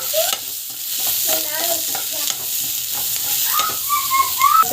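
Onion and green chilies sautéing in a pan, soft frying sizzle with frequent spatula scrapes and clinks, plus a few thin whistle-like squeaks, heard close with no talking.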